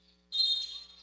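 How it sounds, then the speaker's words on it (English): A referee's whistle at a men's college basketball game, one sharp sustained shrill blast starting abruptly and holding for under a second over quiet arena background. "And a whistle."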